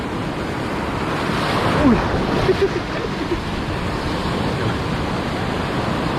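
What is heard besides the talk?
sea waves at the reef edge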